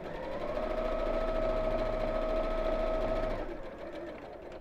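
Sewing machine stitching around the edge of a simple purse, a steady close whirring hum that runs for about three seconds and then stops, leaving quiet room noise.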